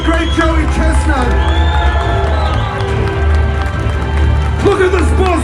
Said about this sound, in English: A round of applause for the great Joey Chestnut!